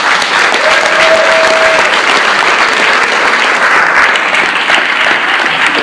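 Loud, dense applause from a crowd at a wrestling storytelling tour event, continuous and sustained throughout with no gaps, a brief whistle near the start.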